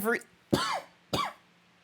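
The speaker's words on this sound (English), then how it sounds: "Ignore that coughing." Three short, harsh coughs close by, each a sharp burst separated by brief pauses.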